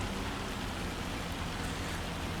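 Steady, dense hiss of hail and rain in Farming Simulator 25, an even wash of pattering with no breaks, moderately loud and alone throughout.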